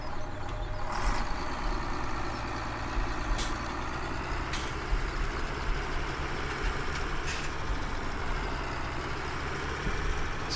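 A John Deere 4760 tractor engine idles and runs steadily in the Farming Simulator 17 video game, a continuous low rumble with a few brief high clicks over about ten seconds, no talking.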